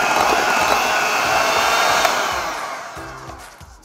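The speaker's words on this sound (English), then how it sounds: "you can fold it, but I really don't see any difference if you use the mixer to just get it in there." An electric mixer whirring steadily while mixing a dessert filling, a close, loud continuous buzz that winds down near the end.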